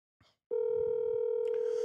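A telephone ringback tone plays while calling someone: a short click, then a steady, loud electronic tone that holds continuously to the end.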